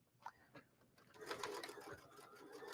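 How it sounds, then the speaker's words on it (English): A sewing machine runs a wide stay stitch across jeans being altered. A few soft taps come first, then a steady, close mechanical whir builds and continues to the end. "And right when I get over those, I want to just do a stay stitch because that's a pretty wide stitch there."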